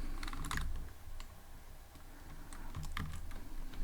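Python code typed on a computer keyboard in bursts of quick, close key clicks separated by short pauses, against a low background rumble.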